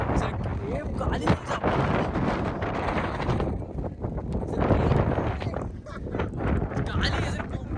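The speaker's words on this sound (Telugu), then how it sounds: "ఏం గాలి" Strong gusting wind on the exposed Brahmagiri peak buffets the microphone, a loud, continuous roar with surges, while people talk over it.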